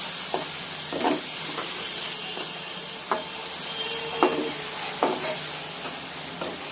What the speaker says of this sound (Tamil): இஞ்சி பூண்டு வாசனை போகிற அளவுக்கு வதக்கணும்.